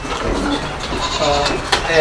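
Barbari goats on a farm bleat loudly and close up across a short stretch, with several overlapping calls and a constant background noise.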